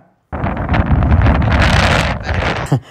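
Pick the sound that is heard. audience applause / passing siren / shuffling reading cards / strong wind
strong wind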